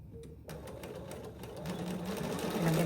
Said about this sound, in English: I'm going to start stitching 1/4 inch.